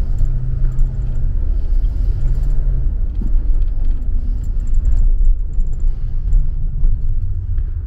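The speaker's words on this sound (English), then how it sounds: "I'm going to do all kinds of driving here." A Leisure Travel Freedom van rolls along with a steady, loud low road rumble heard from inside, punctuated by light rattles and jingling like loose keys throughout.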